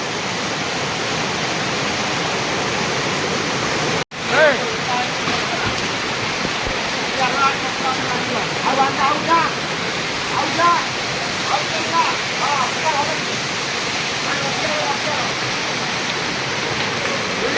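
Dense, steady roar of heavy rain pouring down throughout, with a brief dropout early on and faint voices mixed into the wash.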